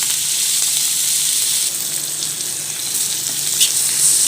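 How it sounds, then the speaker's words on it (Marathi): Butter and spices, red chilli powder and pav bhaji masala, sizzle loudly on a hot griddle for Mumbai-style masala pav, a dense continuous hiss with faint scraping; no talking. "आता तवा गरम झालेला आहे थोडंसं बटर लावून घ्यायचं"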